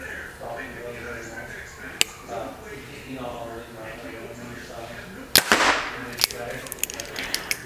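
Two arrows loosed from a Hoyt Axius Alpha compound bow, each a sharp snap, the second louder and followed by a brief rattle, with someone talking quietly in between.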